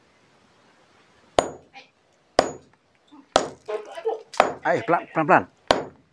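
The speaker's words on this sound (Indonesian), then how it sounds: "Kita dulu nih harus pakai palu nih." A hammer strikes repeatedly at an object to dig out a green glowing object, five sharp metallic clinks spaced about a second apart, with a voice talking between and over the blows.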